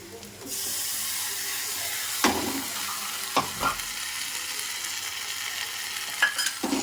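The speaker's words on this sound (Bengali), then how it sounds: "এবার আমি দেখো পেঁয়াজ রসুনের পেস্টটা অ্যাড করে দেবো" Onion-garlic paste hits hot oil with frying onions for a mutton curry, giving a steady close sizzle with a few sharp pops and spatter bursts and occasional utensil knocks.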